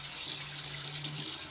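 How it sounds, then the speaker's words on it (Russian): Water runs steadily from a kitchen tap in an apartment, a continuous close hiss of flow into the sink with no talking. "напор воды давайте посмотрим"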